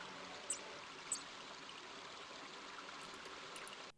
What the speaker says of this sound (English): With a fine view of the rushing river, the bakehouse sits a bit out of town